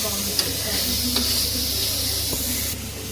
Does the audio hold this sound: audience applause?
no